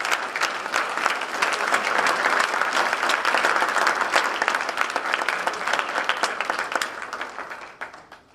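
An awards-ceremony crowd claps for state champion athletes, a loud, sustained round of applause with crisp individual claps, holding steady before tapering off at the end.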